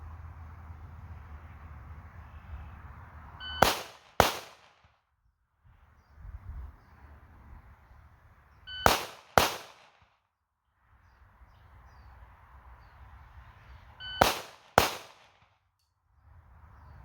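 Gunshots from a stock CZ P10 striker-fired pistol, fired in three separate pairs of sharp, loud cracks spaced several seconds apart, with a steady background hum between the pairs.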